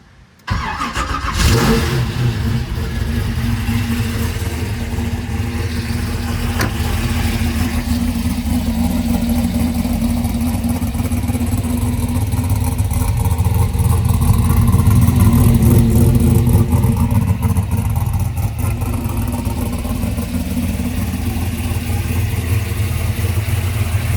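A Chevy Nova engine cranks and catches, then runs with a loud, rumbling idle that swells with revs before settling back, close by.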